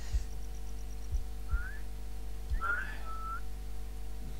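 Short whistled notes from a player in the video game Infestation, a few brief rising and gliding tones spaced apart over a low steady hum, with no talking.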